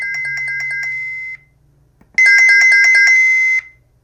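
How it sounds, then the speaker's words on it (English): Youkey plug-in chime unit for a dual-camera video doorbell plays its electronic ringtone through its speaker, two bursts of bright repeated tones separated by a short pause, loud and close with no talking. "whenever the doorbell rings, you'll be able to hear right there through these speakers here, and you can change the volume"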